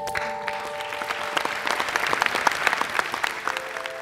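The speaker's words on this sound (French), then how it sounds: "On peut l'applaudir." An audience applauds steadily at a talk, dense clapping that holds for a few seconds without speech.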